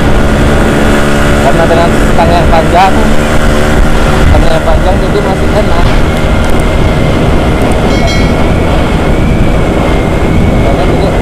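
A Yamaha YT115 trail motorcycle engine runs with a steady, close droning hum through the whole stretch, while someone talks over it.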